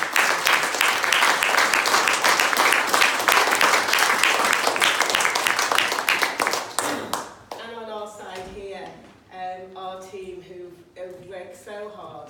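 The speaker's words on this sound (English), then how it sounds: "Can we give them all a round of applause?" A crowd at a plaque-unveiling event in Liverpool gives a loud, dense round of applause for about seven seconds, then it fades and a voice speaks.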